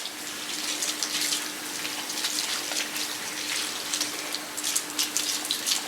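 Water runs steadily from a tap while red hair dye is rinsed out of permed curly hair, a constant close hiss of flowing and splashing with a faint hum underneath.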